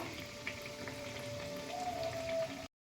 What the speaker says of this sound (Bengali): আমি গোল্ডেন ব্রাউন করে ভাজবো এই পকোড়াগুলো, মানে নাস্তাগুলো